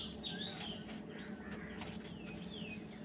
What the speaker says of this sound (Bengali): ওই যে কবুতরগুলো দেখতে পাচ্ছেন, কবুতরগুলো ছেড়ে দিয়েছি